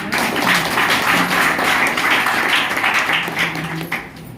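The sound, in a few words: audience clapping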